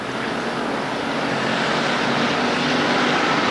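Winston West Bomber Series stock cars race at Ascot Speedway in 1988, coming out of turn 2. A loud, continuous, distant roar of several engines blends into a steady wash of noise without breaks.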